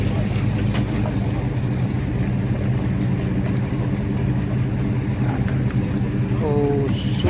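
A motorboat's steady low engine drone hums at a public boat ramp in Shuwaikh, Kuwait, as it comes in, with a brief rising whine near the end and faint voices in the background.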